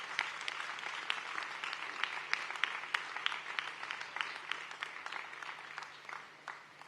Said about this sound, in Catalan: Un aplaudiment per totes les entitats de Sant Feliu que hi participen.